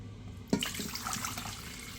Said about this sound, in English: So you just open it up, pour in your water.